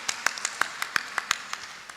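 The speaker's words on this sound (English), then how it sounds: "So please, a round of applause for him." Scattered, sparse hand claps from a small audience at a film and TV investment summit, about a dozen distinct claps at an uneven rhythm, fairly quiet in a reverberant room.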